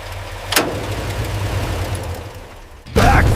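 An abandoned safari jeep's engine cranks on the starter in a steady, labored churn. A sharp burst near the start and a louder surge at the end suggest it catching or backfiring, loud and close.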